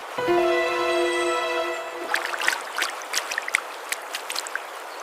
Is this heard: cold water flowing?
yes